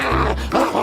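An elderly man imitates his neighbour's noisy dog, giving a short, deep, growling bark-like vocal burst, then a second rougher growl, close and fairly loud.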